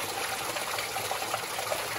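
Water flows steadily from Big Spring in Paria Canyon, a continuous close rushing wash with no pauses and no voices.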